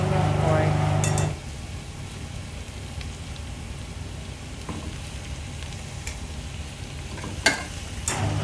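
Pork added to onions frying in a pan for kare-kare, with a steady close crackling sizzle, a few clinks and utensil knocks, and a voice briefly at the start.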